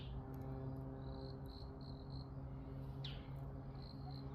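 Crickets chirp steadily in the open with a low constant hum underneath, and a few faint bird calls come and go in the distance.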